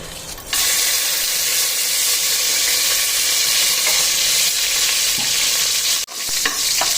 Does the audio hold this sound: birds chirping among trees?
no